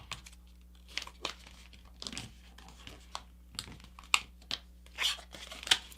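Paper is folded and creased by hand while making a paper airplane, giving close, crisp crinkles and sharp rustling snaps in irregular bursts over a quiet background.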